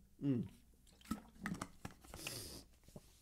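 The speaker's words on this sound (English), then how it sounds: "Let me grab a drink here." Someone takes a drink of a colored, water-like beverage, with a few close wet sips, swallows and small liquid mouth sounds spaced apart in a quiet room.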